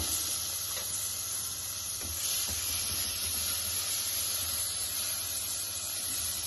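Soaked, washed rice frying in ghee in a pan for caramel payesh, a steady soft sizzle and hiss running evenly throughout, fairly quiet, with no talking.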